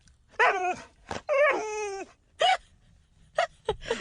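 A dog whimpers and yips in short bursts, whiny tonal cries and a few sharp yelps separated by pauses, close to the microphone with no talking.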